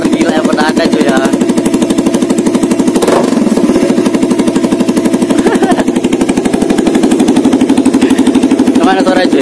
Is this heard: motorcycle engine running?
yes